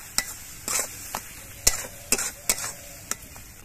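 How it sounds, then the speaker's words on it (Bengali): Spices sautéing in a pan while a spoon scrapes and stirs, giving a string of sharp, irregular scraping knocks over a low sizzle, close by and with no speech. "এবার সব কিছু দিয়ে কিছুক্ষণ কষিয়ে নিতে হবে।"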